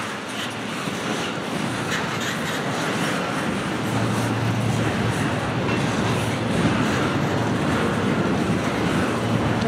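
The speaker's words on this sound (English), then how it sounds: "I'm glad to see the train stop after all of a sudden that sudden stop" A sixty-six-car freight train rumbles with a broad, steady roar and faint rail clatter, holding constant and loud throughout with no voices.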